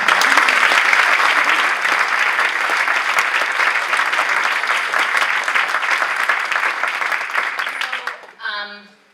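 Dense, loud audience applause fills a lecture hall at a talk on hate and antisemitism, continuing steadily before tapering off near the end as a voice begins speaking.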